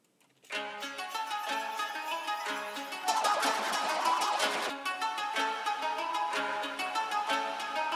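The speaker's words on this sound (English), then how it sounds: "sitar sound that I've got here" A looping sitar phrase runs continuously with bright plucked, buzzing strings, washed in reverb from the Spacer plugin whose presets change the ambience partway through, growing denser and more diffuse midway, with no talking.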